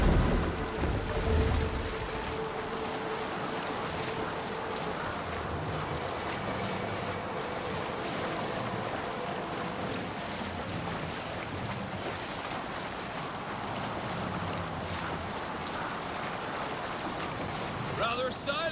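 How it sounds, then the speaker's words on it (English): Viking longship rowing on the open sea in Assassin's Creed Valhalla, a steady wash of waves, wind and hull noise with faint voices talking beneath, and a brief clatter near the end. "Stop yapping and start rowing."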